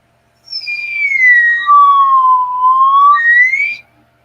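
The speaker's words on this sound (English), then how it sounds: "I do have a slidey whistly thing," A slide whistle used for bird calls gives a single loud, clear tone that starts high, glides down, then slides back up before stopping abruptly.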